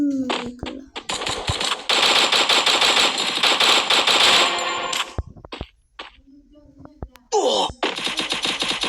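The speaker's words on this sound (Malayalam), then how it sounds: "നമ്മളെങ്കിൽ എത്ര ആ വെടിയൊക്കെ ഒച്ച മാത്രം കേൾക്കണം." Rapid automatic gunfire in the battle game Free Fire, loud bursts lasting a few seconds each with short gaps, metallic clangs and single sharp shots in between.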